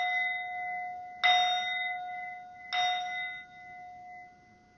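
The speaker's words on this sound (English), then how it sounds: "I'm going to go ahead and use my singing bowl." A singing bowl is struck twice, each strike a bright metallic clang that blooms into a long, steady ringing tone that slowly fades, alone and close in a quiet room.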